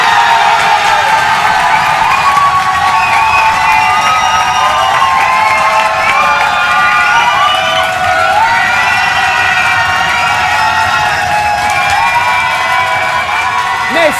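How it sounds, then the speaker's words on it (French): A large audience at a televised French-language talent show erupts in loud continuous cheering and applause, with whoops and shrill shouts layered over the clapping throughout. "au vu des applaudissements que nous avons eus ce soir"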